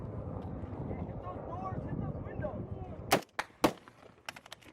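Sharp gunshots crack out during a firefight with the Taliban, a few loud irregular reports near the end after a stretch of dense rumbling noise and muffled voices.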